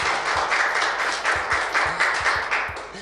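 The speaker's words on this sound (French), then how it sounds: "Votre applaudissement pour nous accompagner." A studio audience on a cultural TV talk show applauds the guests. The clapping is steady and dense, with many hands together at moderate loudness and no talk over it.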